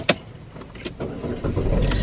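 A car engine starting at night in a Walgreens parking lot, with a sharp click and short mechanical noises, then the motor turning over and settling into a steady running rumble.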